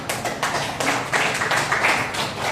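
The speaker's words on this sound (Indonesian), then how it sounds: "Kita beri aplaus untuk kita semuanya" A classroom group applauding, with a burst of quick, close hand claps from several people that keeps going steadily for a couple of seconds.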